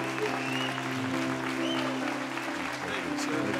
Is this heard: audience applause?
yes